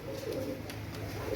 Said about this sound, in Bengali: অসাধারণ কবুতর